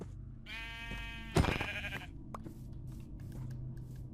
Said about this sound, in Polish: Mamy tutaj owce.